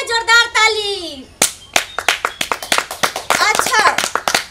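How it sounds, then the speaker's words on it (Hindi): An audience breaks into loud, brisk clapping at a rural stage show, sharp claps building into a dense burst after a voice calls out over the start. "हो जाए जोरदार ताली"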